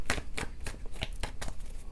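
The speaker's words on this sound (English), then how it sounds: "One more shuffle." Tarot cards are shuffled by hand in a quick series of papery riffles and taps, about seven crisp bursts in two seconds, close and clear with no talking.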